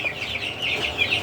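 Young desi chickens, about two weeks old, kept on floor litter in a poultry shed, give a quick string of close, high clucks and chirps, several birds overlapping with no talk.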